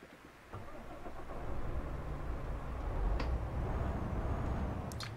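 A MAN TGX Euro 6 truck engine in Euro Truck Simulator 2 starts up and settles into a steady, low rumbling idle with a slight rise in revs, heard alone without talk.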